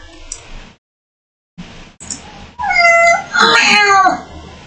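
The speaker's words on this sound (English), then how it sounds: "What you meowing at?" A cat meows close by, a few drawn-out, wavering cries after some brief shuffling noises and short pauses of silence, with no one speaking over them.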